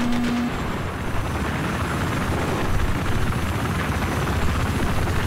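A helicopter flies in the Battlefield 4 beta on the Shanghai map, its rotor and engine making a loud, steady, continuous roar that holds throughout with no pauses or speech.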